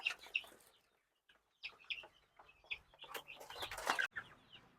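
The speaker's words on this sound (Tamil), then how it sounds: "அந்த சாப்பாட்டுக்காக எத்தனை கோழி வந்து எதிர்பார்த்துக்கிட்டு இருக்குது பாருங்க" Chickens near 60 to 70 days old cluck and squawk in irregular bursts close by as they gather waiting for feed, with a louder flurry of calls near the end.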